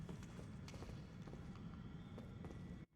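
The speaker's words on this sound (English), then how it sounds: "I hear footsteps, and that makes me uneasy." Footsteps in the video game Elden Ring make a steady run of quick, close thuds over a low rumbling game ambience, then cut off abruptly near the end.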